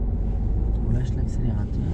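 Car interior during a driving lesson: a steady low engine rumble as the car accelerates and shifts into second gear, with voices talking over it.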